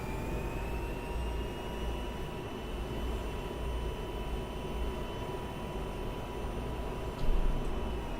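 An F-16 jet engine in a flight video game roars with a steady broadband rush and a faint high whine, holding an even level throughout with a brief louder bump near the end.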